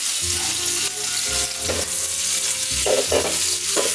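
Spices sautéing and sizzling in a hot pan with repeated stirring and scraping for Filipino ginataang kiampaw, a steady frying hiss with rhythmic utensil strokes, close up.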